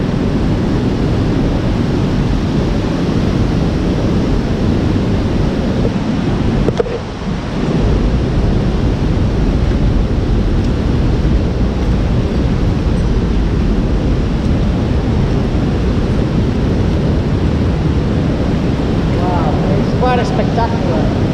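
A waterfall in a tunnel beneath Manchester Victoria railway station, producing a loud, constant roar of rushing water that fills the space almost without a break. A voice speaks near the end.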